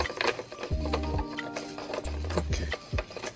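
A bead spinner turned by hand to string beads for rings, giving a rapid whirring rattle in two bursts with clicks and light taps between, close and fairly quiet.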